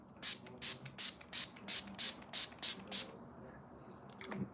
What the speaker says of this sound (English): I'm gonna spray myself and then spray again.